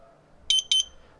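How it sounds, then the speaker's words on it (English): Two short electronic beeps from the sync button of a Eufy Cam 2C Pro security camera, evenly spaced, clear and close against a quiet background. "All right, there is the second beep."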